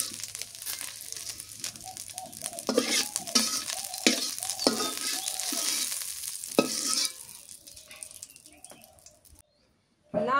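Dried fish frying in hot oil in a village kitchen, crackling and sizzling up close with bursts of stirring and scraping, fading near the end, while voices talk at times.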